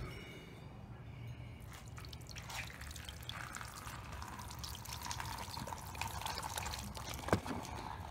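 Water poured onto tan Yeezy 350 Boost Oxford sneakers treated with Crep Protect, a faint, steady splashing trickle under low background noise, ending with a small distinct drip.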